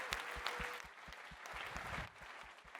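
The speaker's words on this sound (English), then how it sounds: "So huge clap one more time for all of our sponsors." Conference audience at a tech event applauding sponsors, a brief burst of dense clapping heard from within the room, fairly faint overall.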